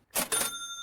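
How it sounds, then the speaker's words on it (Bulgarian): A cash register closing in the supermarket video game Supermarket Together: a quick double rattle and clunk followed by a bright ringing chime that fades out, heard alone. "Затвори касата с червената копче отстрани."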